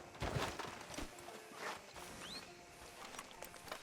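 Horse hooves clip-clopping in the video game Red Dead Redemption 2, a steady run of close hoof strikes over a light ambient background, with no talking.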